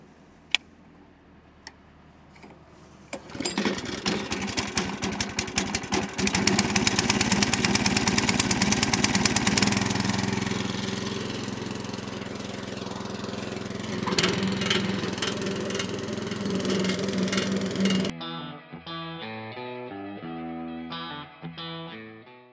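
A petrol lawn scarifier runs across a lawn, a steady loud engine drone with rattling, ticking blade noise over the grass, broken by sharp bursts, before it cuts out and a faint stuttering idle remains.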